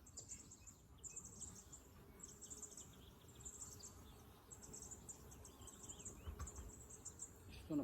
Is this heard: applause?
no